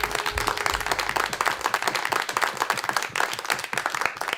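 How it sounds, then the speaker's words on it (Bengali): An audience at a folk music reality show studio round claps loudly for the musicians, a dense, steady burst of applause lasting several seconds with no voices over it. "মিউজিশিয়ানদের জন্য একটা জোরে হাততালি দেন সবাই"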